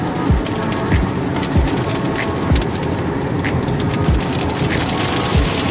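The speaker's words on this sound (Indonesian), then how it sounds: "Di Cipularang nih udah mulai hujan nih, hujan deras." Heavy rain pounds a Toyota Innova petrol MPV as it drives on the Cipularang toll road. A steady dense hiss of drops is broken by regular soft thumps, with a low road rumble underneath and no talk.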